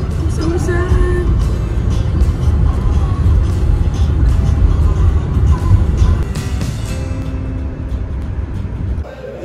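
A car heading out of Yellowstone National Park toward Wyoming, with a steady, loud interior road rumble and broadband tire noise throughout, easing slightly near the end.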